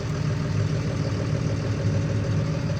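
Fendt 926 Vario TMS tractor with a MAN engine idling, a steady low diesel rumble with a fine even throb, close and constant with no voices.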